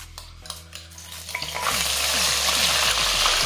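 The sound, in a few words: ginger, garlic and onion paste stirred and frying in oil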